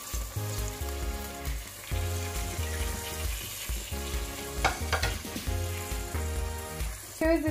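Onions fry in ginger-garlic paste for chicken daleem, giving a steady close sizzle with stirring scrapes and clinks that pulse across the stretch.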